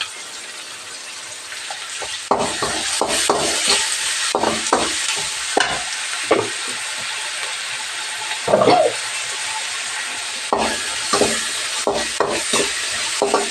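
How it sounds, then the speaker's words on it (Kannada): Tomato frying in a pan for brinjal palya, with a quiet sizzle under repeated sharp scrapes and clinks of a spoon stirring against the pan. "ಈಗ ಸ್ವಲ್ಪ ಇದು ಟೊಮೊಟೊ ಸ್ವಲ್ಪ ಫ್ರೈ ಆಗಲಿ ಫ್ರೆಂಡ್ಸ್"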